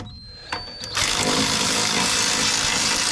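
A power tool spins out the front brake caliper bolts on a 2011-2020 Jeep Grand Cherokee during a brake pad and rotor job. A short start-up blip comes first, then a loud, steady, close whir runs through the rest.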